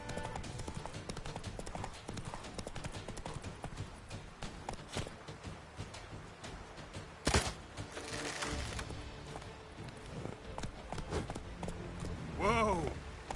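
Horse hooves clip-clopping at a gallop in The Witcher 3 on PS5, a steady rapid beat running throughout with game music, a sharp impact and a whinny near the end.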